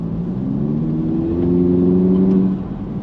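Car engine fitted with a Racingline R600 airbox intake, heard from inside the cabin with windows shut, gives a steady droning rumble that swells slightly before dropping off near the end.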